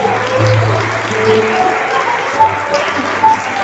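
A church congregation applauds during a Christmas service, dense continuous clapping with a faint sustained musical tone beneath, steady and fairly loud throughout.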